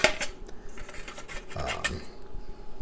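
Small metal mess kit pot being handled near a hexamine tablet stove, with light clinks and scrapes of metal on metal, close and intermittent.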